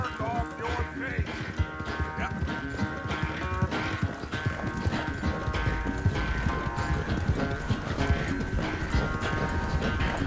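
Horse hooves clip-clop steadily and briskly on the ground in Red Dead Redemption 2, loud and close, over a dense bed of game music with occasional voices.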